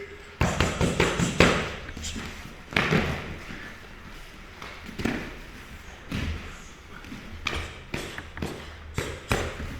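Punches landing on pads in a martial arts class: quick bursts of dull, close thuds and slaps, with short pauses between combinations and voices in the background.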